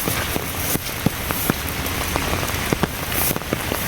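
Heavy evening rain pelting down outdoors near a riverside fishing net, a dense steady hiss broken by scattered sharp drop impacts close by, with no one speaking.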